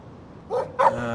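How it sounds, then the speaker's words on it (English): A dog barks twice in quick succession in the video game Life Is Strange, near and sharp, the second bark louder than the first. "No barking."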